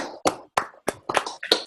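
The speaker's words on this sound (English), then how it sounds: "Let's clap it up for Melanie anyway" Clapping on a group video call for Melanie, six or seven separate bursts of hand claps from a few people, sharp and close, with brief silences between bursts.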